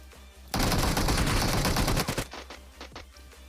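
Dense automatic gunfire erupts in a shooter video game, a loud sustained burst of rapid shots followed by a few scattered single reports and tailing echoes.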